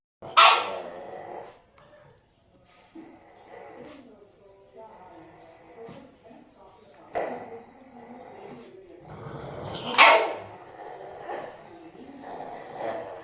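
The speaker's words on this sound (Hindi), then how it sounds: "ये पीछे से इतना भौंक रही है ना, मुझे दे बोल के।" A dog barks in two sharp bursts, close by, with someone talking in between and a second loud outburst later.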